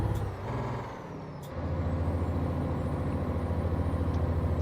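A truck in a driving game lets out a sharp hiss of its air brakes early on, then its engine settles into a steady low drone that carries on alone at moderate volume.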